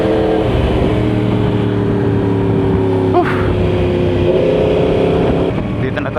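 A 2020 Yamaha R1 sport motorcycle engine holds a steady, loud drone while riding near Tagaytay, with a brief rev rise partway through and constant wind roar throughout.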